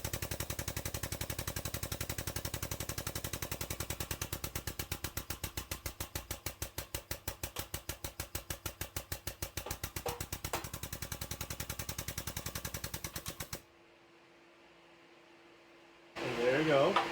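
A Harbor Freight hydraulic punch is worked by hand, giving a long, fast, steady train of sharp mechanical pulses that stops abruptly, followed by near silence and then a short rustle.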